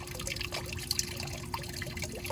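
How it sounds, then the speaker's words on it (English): Antifreeze coolant draining from a 2001 Mercedes SLK 320 (R170), a soft steady trickle and dribble of liquid with a few faint drips and small clinks, quiet and without talk. "Just let it all drain out."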